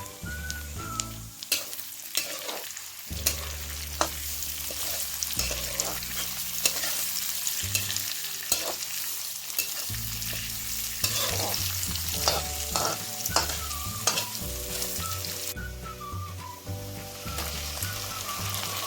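Chopped onions sizzle steadily in a pan, with repeated scraping and clattering from stirring over a constant close crackle and quiet background music.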